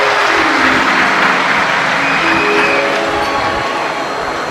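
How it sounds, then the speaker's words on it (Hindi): Audience applause in a large religious gathering for a Shiv Mahapuran katha in Vidisha, a loud, dense wash of clapping held steady for several seconds with no speech over it. "एक बार सभी विदिशा वासियों के लिए जोरदार ताली बजाकर स्वागत,"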